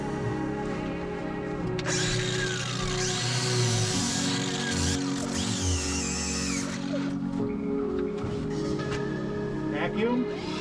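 A battery-powered sander works on a boat hull being repaired after a whale strike, making a steady motor whir that shifts in pitch, pauses now and then and restarts, with faint voices in the background.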